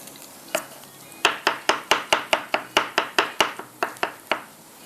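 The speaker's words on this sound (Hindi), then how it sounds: "तो बैंगन को चॉप करती हूँ यहाँ पर" Knife chopping cooked, soft eggplant (brinjal) on a board for baingan bharta, a steady run of about fifteen crisp close cuts at a quick even rhythm, with no talking.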